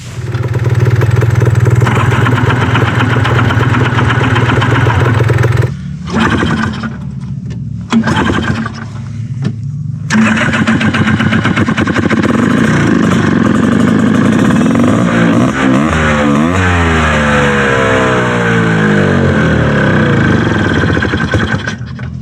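A loud off-road vehicle engine in the sand dunes at Sand Hollow rumbles at idle, cuts out briefly, then restarts and revs up and down repeatedly, close and continuous.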